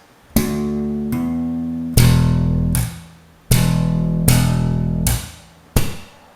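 Slow slap bass line on electric bass in a slap lesson, with seven or so clear, loud thumb-struck notes at an unhurried pace, each ringing out before the next, played alone without talk.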